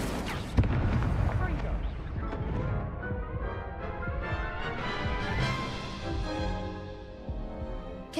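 Incendio fire spell blast in the Hogwarts Legacy video game, a loud burst at the start followed by a sustained rumbling roar with layered game music and effects continuing steadily underneath.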